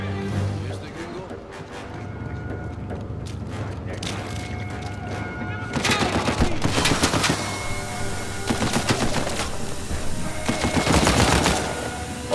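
Gunfire in Uncharted 4, starting as scattered shots over a low background and building into loud, dense automatic bursts and rattling volleys in the second half.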